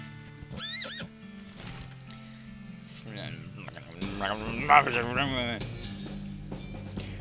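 A horse whinnies in the video game West of Loathing, a short neigh early on followed by a louder, drawn-out whinny, with game music underneath.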